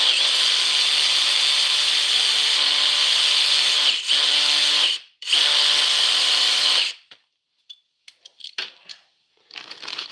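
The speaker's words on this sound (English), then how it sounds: "I'm gonna grind like fucking 3 more screws" A high-pitched power tool grinding screws runs steadily and loud for several seconds with a brief dip, stops, restarts, then cuts out, leaving scattered small metallic clinks and handling noises.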